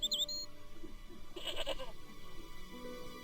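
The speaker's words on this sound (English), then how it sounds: "Okay, very calm goat." A goat in the video game Broken Sword gives one short, faint bleat midway through, set against quiet ambient game background sound.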